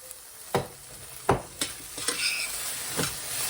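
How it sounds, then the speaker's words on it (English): Vegetables sizzling in a pan, a low steady hiss punctuated by several sharp scrapes and clacks of a utensil stirring them, close and fairly quiet, with no voices. "And just let them cook until they're just about tender."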